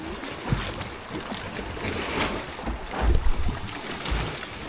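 Strong sea waves churn and slap around a small boat near a rocky island, a loud, continuous wash of water and wind with heavier surges toward the end and no talk.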